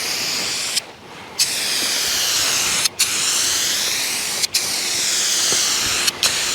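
Spray paint hisses in long, loud continuous bursts while a muscle car is painted outdoors on a windy day; short pauses separate each pass, and no one speaks.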